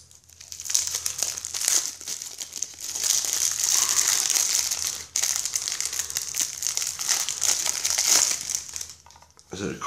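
Plastic packaging on a Steins;Gate collectible crinkles and crackles continuously as a resealable flap cover is lifted and opened, close and fairly loud, steady rustling for most of the stretch with a brief pause midway.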